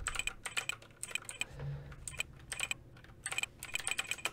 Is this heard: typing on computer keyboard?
yes